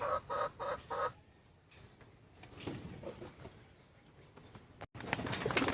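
A few quick, evenly spaced coos from breeding pigeons, one of them a blue bar, open the sound. Fainter shuffling and soft bird calls follow, then a brief dropout, and the sound turns louder and busier at the close.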